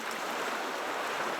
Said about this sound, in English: I can hear the sea. I can hear the waves.